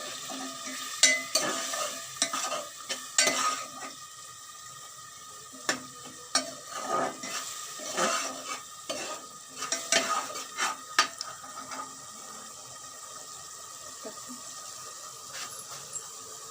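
Spices sizzle and fry in a pan while being stirred, with repeated scraping strokes of a utensil over a steady frying hiss, moderately close and without any speech.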